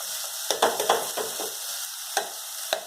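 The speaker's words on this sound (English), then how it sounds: "You have to start squashing the tomatoes." Tomatoes are squashed in a hot pan for rasam. Soft sizzling runs throughout, broken by several sharp squelching presses and scrapes, close and without talk.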